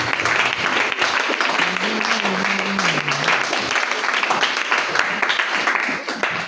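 A church congregation applauds during a French-language Sunday service, a loud, steady wash of clapping with a brief voice rising over it partway through.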